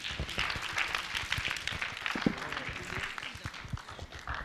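An audience at a book launch applauds with a dense, steady patter of many hands clapping at once, moderately loud and sustained throughout.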